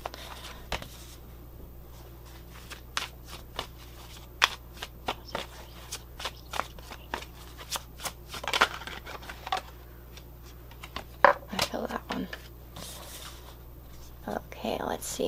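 Tarot cards shuffled by hand in a quiet room, a long run of crisp riffling snaps and papery flutters in uneven bursts, close and fairly soft, with no talk over them.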